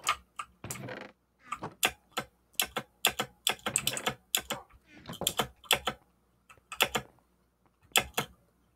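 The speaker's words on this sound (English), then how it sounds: "Listen to that keyboard clack." Rapid, urgent typing on a computer keyboard, with bursts of sharp, close clacking keystrokes separated by short pauses, heard alone.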